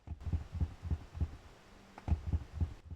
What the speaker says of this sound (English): when you do click on the radio, you're gonna hear like a heartbeat